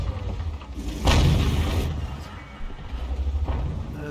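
A tank cannon fires in a tank video game, a single loud boom with a rumbling tail, followed by lower engine rumble and a fainter second thud.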